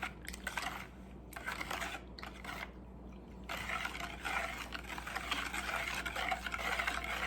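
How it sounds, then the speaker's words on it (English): Sugar being mixed into a bread pudding mixture, a soft, continuous scraping and swishing of stirring, faint and close, with a few brief breaks early on before steady mixing. "And I'm going to add all my sugar. And I'm going to mix this all up."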